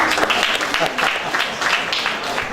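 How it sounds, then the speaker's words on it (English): An audience at a national entrepreneurship conference claps in a dense, steady patter that carries through the whole stretch, with a hint of voices mixed in. "Please clap it here."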